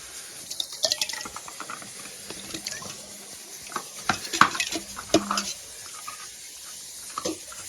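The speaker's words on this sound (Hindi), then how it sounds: "इसको भी मिक्स करेंगे इसी के साथ।" Ingredients being mixed by hand in a bowl for a home barbecue, giving soft irregular clinks, scrapes and stirring knocks with a faint watery, running-tap quality in the background.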